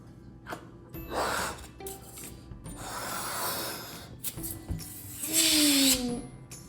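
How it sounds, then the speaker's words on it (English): A purple rubber balloon is stretched, blown up by mouth and handled, with breathy puffs, rubbery rustling and a rising squeak near the end, heard close and without talk. "blow up the balloon"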